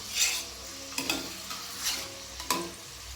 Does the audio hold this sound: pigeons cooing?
no